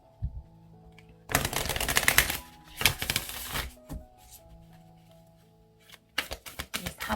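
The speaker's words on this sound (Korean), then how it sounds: "마지막으로 조언의 카드 2장 뽑아보도록 할게요." Tarot cards shuffled and drawn from the deck in two loud bursts of crisp riffling and slapping, with quieter card handling between them and another burst at the end.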